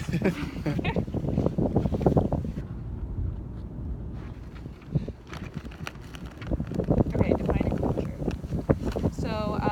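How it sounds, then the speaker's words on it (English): Heavy wind buffets the microphone with loud rumbling gusts while a person talks over it, easing briefly before roaring back. "it's really windy"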